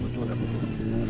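A brief, muffled engine rush of a motorcycle going by, heard from inside a car under a steady droning rumble.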